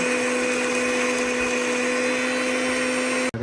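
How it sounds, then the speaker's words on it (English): A mixer grinder blends a basil leaf marinade for beef ribs, running as a loud, steady motor whine with a constant pitch that cuts off abruptly just before the end. "Adding basil leaf. Grinding for rich marination."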